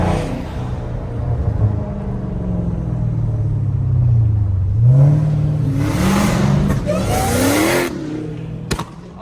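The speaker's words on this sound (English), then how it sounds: "that is a Demon 170 Charger, straight out of underground tuning." Dodge Demon 170 Charger with an underground tuning build revving loudly and steadily, its deep engine note climbing through several rises and falls in pitch over a constant low rumble, close by with no talking.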